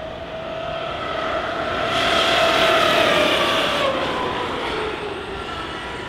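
An ARRMA Kraton 8S RC car with a Max5 800kv combo passes at full throttle, its high electric motor whine rising and swelling louder, peaking mid-pass, then easing and falling in pitch as it moves away.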